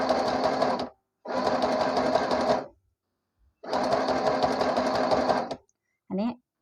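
A domestic sewing machine stitches a folded zigzag hem in three loud, close bursts separated by short pauses, with a brief clatter at the end.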